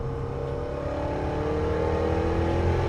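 A Jaguar XKR-S sports car drives on a racetrack, its engine a loud steady drone that rises gradually in pitch as it accelerates, heard from inside the car with no talking.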